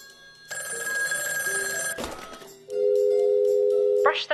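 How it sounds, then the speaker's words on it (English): Telephone ringing inside a VR game of Taskmaster: an electronic bell-like ring with bright tonal layers sustains for about a second and a half, breaks off, then gives way to a steady, louder synthetic tone ending in a rising chirp. "The phone is ringing."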